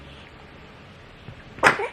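One sudden, sharp sneeze near the end after a quiet stretch, close and fairly loud.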